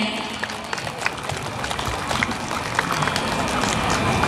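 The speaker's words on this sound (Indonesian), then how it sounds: "Boleh berikan tepuk tangan yang meriah?" Audience applause at a PKH graduation ceremony in Lampung, a dense, steady clapping from a large crowd filling the room, with scattered louder claps throughout.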